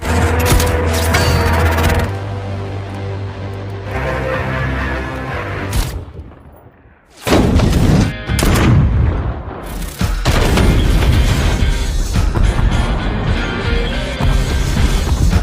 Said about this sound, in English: the bombs detonated one by one, obliterating Dark Lake's secret facility